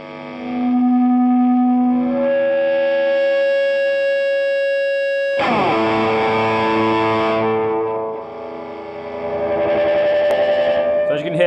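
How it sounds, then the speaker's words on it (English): Sustained electric guitar feedback from a Gibson Custom '59 reissue as the volume knob rolls up, with howling tones that shift pitch, a struck chord midway, then more ringing feedback, loud and alone. "there's a lot of feedback just from rolling up the volume"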